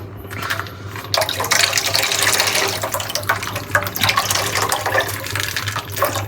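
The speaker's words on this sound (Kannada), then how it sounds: "ಅದಕ್ಕೆ ನೀರು ಜಾಸ್ತಿ ಹಾಕಿದ್ದೀನಿ" Water poured into a cooking pot while making a curd-based dish on the stove, a continuous splashing, gurgling fill running for several seconds over a low steady hum.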